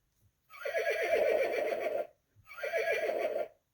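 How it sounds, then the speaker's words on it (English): Two bursts of recorded horse neighing from an interactive children's sound book button, each a loud, quavering whinny lasting over a second, separated by a short gap and heard alone without speech. ""That sounds like a horse," says Poppy."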